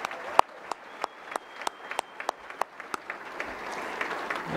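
Applause for award winners at an awards and recognition dinner: a thin, sparse patter of claps with a few sharper individual claps standing out, moderately near, no voices.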